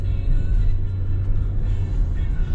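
A car drives down a mountain road, heard from inside as a steady low engine rumble and road noise that stays even throughout. No one speaks.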